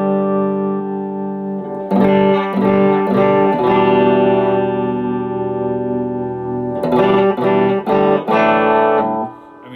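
A Telecaster on the bridge pickup with the tone control wide open, played through a 2021 Vox AC15C1 amp with reverb, sounding bright sustained chords and single strummed hits in two phrases separated by a ringing sustain.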